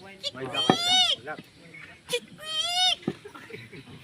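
A person vocally imitates a white duck, giving two drawn-out nasal honking calls separated by a short pause, close and fairly loud, with brief background murmurs between them.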